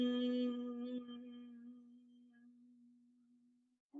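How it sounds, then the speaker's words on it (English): A single person hums a steady, low buzzing tone on the exhale in Bhramari (bumblebee) breathing. It is one sustained, fairly quiet note that fades over about four seconds before a short breath-like sound. "place your tongue to the roof of your mouth and gently hum to sound like a buzzing"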